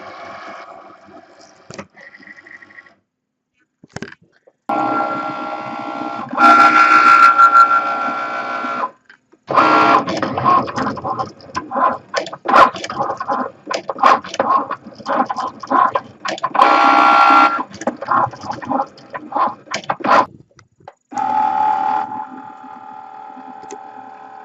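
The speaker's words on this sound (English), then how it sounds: "then we're going to feed this new color into the machine to do the second layer." A Cricut Maker fitted with a We R Memory Keepers Foil Quill draws a second foil color layer, giving bursts of whirring motor and carriage movement with short pauses between passes, close and moderately loud.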